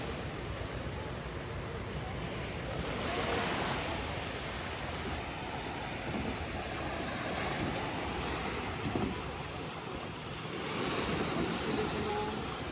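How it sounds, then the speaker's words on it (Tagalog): Gentle ocean waves wash in and out steadily at a Boracay beach, with soft surges of surf and a constant hiss of wind and water. "Banayad lang ang alon"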